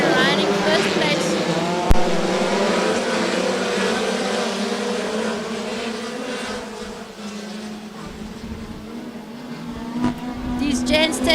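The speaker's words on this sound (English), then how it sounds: "we have the green flag down and it's pedal to the middle as these machines go into the first corner" Race cars on an oval dirt track roar as they go into the first corner, a loud steady engine drone with rising and falling whines, under an excited commentator's voice.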